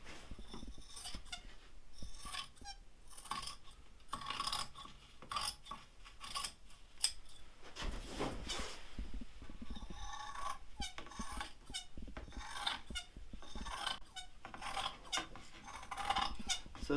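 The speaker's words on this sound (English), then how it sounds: "So the scissors are just sort of rubbing against the wing there, just as a guide." Scissors slide and rub along a hydrofoil wing while cutting fibreglass cloth, giving repeated close, raspy snips and scraping strokes in an irregular rhythm with no talk.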